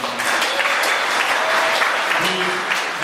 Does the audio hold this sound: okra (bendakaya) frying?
no